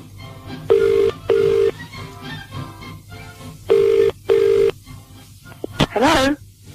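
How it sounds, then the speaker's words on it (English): Telephone keypad tones sound in pairs of steady beeps, followed by a short ringing burst, all fairly close and clear over a quiet background. "let's give them a call and see if we can talk to Grumpy the First"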